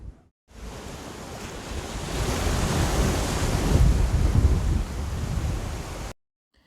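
Sea surf breaks on a beach at Formby, a steady wash of waves building to a louder rush midway before easing off, heard alone with a rough wind buffet on the microphone.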